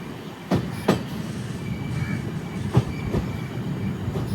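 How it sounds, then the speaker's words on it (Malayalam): An express train on the Mangaluru–Rameswaram route rolls toward Madurai Junction, giving a steady low rumble of carriages and wheels with a few sharp clanks over rail joints. "7:50 ട്രെയിൻ ഇതാ മധുരൈ ജംഗ്ഷനിലേക്ക് എത്തുകയാണ്."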